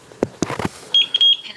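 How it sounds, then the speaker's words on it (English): A Eufy E340 video doorbell gives short, high, electronic setup beeps right after a few muffled thumps and clicks, close and clear, with no one talking. "Heard the beep."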